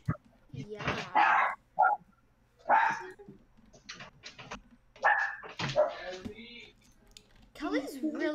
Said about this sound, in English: She only barks when somebody's coming.